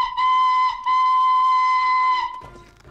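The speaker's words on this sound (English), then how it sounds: "Charlie blew his whistle as loudly as he could." Charlie, a cartoon steam engine, blows his whistle loudly: a clear, piercing steady tone in two long blasts with a brief gap between, then it fades out.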